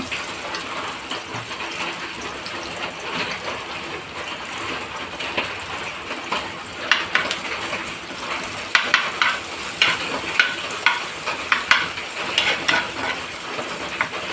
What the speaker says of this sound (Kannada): ಮೊದಲಿಗೆ ನಾನು ಇಲ್ಲಿ ಈರುಳ್ಳಿಯನ್ನು ಹಾಕ್ತಾ ಇದ್ದೇನೆ ಚಿಕ್ಕದಾಗಿ ಕಟ್ ಮಾಡಿಕೊಂಡು